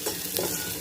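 Chillies, cumin and mustard seeds fry in hot oil for an Indian tempering, giving a dense, continuous close sizzle with light stirring and no talk.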